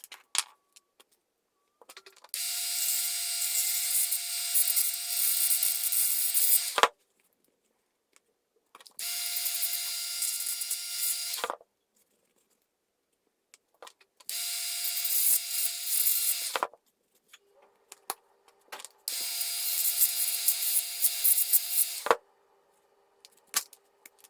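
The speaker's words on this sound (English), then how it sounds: "I'm just grinding the ends of the axle" A small grinder works on the axle ends of a Matchbox GMC refrigerator lorry toy in four separate bursts of high whining grind, each a few seconds long with quiet gaps between.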